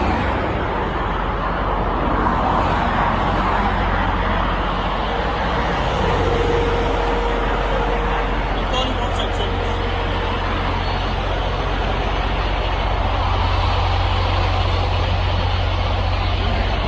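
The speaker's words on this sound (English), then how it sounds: "This wheel is rattling like crazy. It's about to fall off his trailer." Truck pulling a trailer with a loose, rattling wheel while driving, heard as a steady loud road and engine roar throughout with rumbling rattle mixed in.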